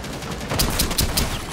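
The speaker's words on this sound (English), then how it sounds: "Are you shooting? I'm shooting, I'm shooting." Gunfire in Rainbow Six Siege on a Kanal map comes as a short burst of four sharp, evenly spaced shots, loud and close, with no talk over it.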